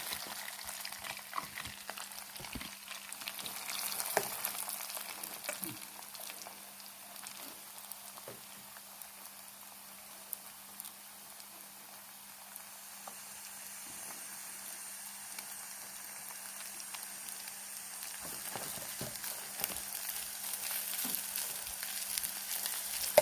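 Minced beef sizzling in hot oil in a pan, a quiet, steady crackling fry with occasional clicks and scrapes of stirring, continuing without a break.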